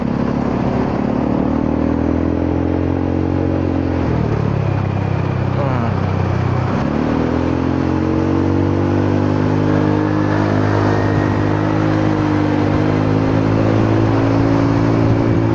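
Honda Forza 300 scooter engine, loud and close, holding a steady drone that dips and rises again in two clear rev swells, continuous throughout.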